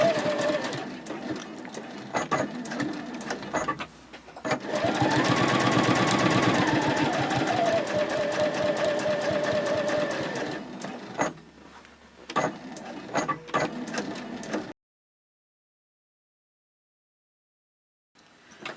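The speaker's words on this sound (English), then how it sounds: "Then I'll move over to the other side of the seam and top stitch in the same way." A sewing machine top stitches along a seam on a fabric sling, with short stuttering runs, then one long steady whir of several seconds, a few more brief bursts, and finally silence.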